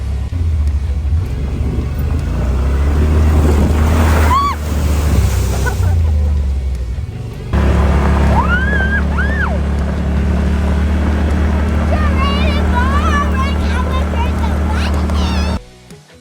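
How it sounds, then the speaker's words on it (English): An off-road vehicle splashes through a creek, with a steady engine rumble and rushing water. People talk, shout and cheer over the noise. "As you can tell, our crew absolutely loved going through the creek."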